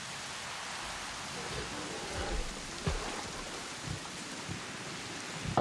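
Rain falls in Jurassic World Evolution as a steady wash of hiss with faint rumbling under it, and a few low thumps come through.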